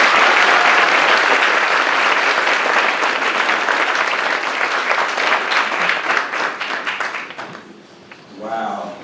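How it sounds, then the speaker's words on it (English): A large audience at an evening talk on wolves bursts into loud, sustained applause that thins and fades over several seconds, followed by a voice beginning to speak as the clapping dies away. "let's give Aaron a big round of applause."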